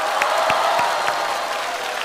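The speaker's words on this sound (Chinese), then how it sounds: "让我们掌声有请倪萍老师、方清平老师。" Studio audience at a Chinese televised comedy competition final applauds steadily as guests are welcomed onto the stage: a dense, continuous wash of clapping with a few sharper individual claps, loud and sustained throughout.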